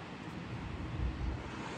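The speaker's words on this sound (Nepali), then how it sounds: "ल समुद्र यस्तो छ है गाइस" Ocean surf washing steadily against a summer seashore, a continuous broad rush of waves mixed with wind buffeting the microphone, with no voices.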